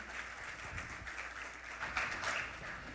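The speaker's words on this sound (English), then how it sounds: "I would like a warm round of applause to the three speakers" A conference audience applauds panel speakers, dense steady clapping from many hands that swells slightly toward the end, heard from a distance in a hall.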